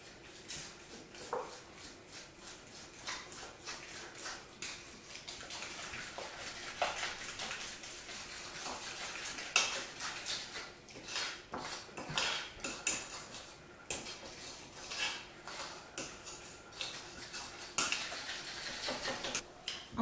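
A whisk beats eclair batter of eggs and sugar in a bowl, giving a steady, close run of fast metallic clicks and scrapes that lasts the whole stretch without pause.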